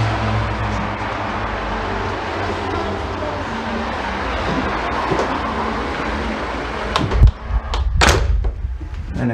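Continuous traffic rumble from a busy South London street heard through an open front door, with a couple of sharp thuds near the end, like a door closing.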